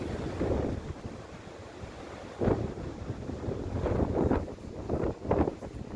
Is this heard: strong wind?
yes